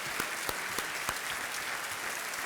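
A studio audience at the KBC television quiz show claps in steady, dense applause that fills the whole stretch without a break.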